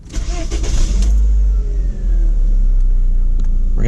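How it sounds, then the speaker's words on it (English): A Mk4 Volkswagen Jetta with a Tiptronic transmission runs nearby with a loud, deep engine rumble after a brief start-up rise, holding a steady idle. "we're gonna let the engine warm up because it's not warm"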